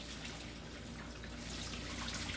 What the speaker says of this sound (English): Now, I'm going to add our water.